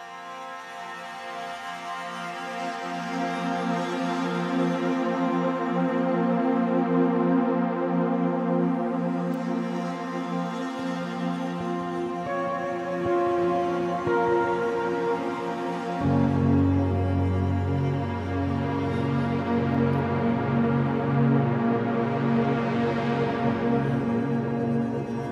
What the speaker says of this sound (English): All I did was in Omnisphere, which is by Spectrasonics, I assigned different sounds to different faders.